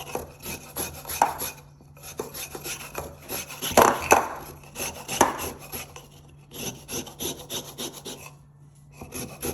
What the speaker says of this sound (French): J'ai utilisé ma râpe microplane, qui est toujours ma préférée pour tout ce qui est zester les agrumes.